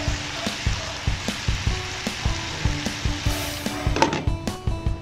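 Bacon frying in a pan, rendering its fat, with a steady crackling sizzle punctuated by regular soft clicks and taps of stirring, close and fairly loud with no talk.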